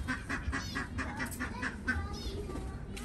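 A flock of ducks on a duck farm in Qatar gives repeated nasal quacks and honks in an irregular, overlapping rhythm, fairly close, over a steady outdoor background.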